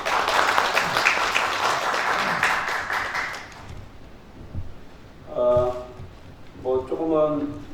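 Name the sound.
applause welcoming the candidate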